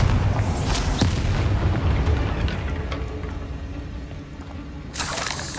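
The Incendio fire spell bursts in Hogwarts Legacy: a loud, roaring whoosh of flame with low rumbling booms, fading over several seconds before a fresh crackling burst near the end.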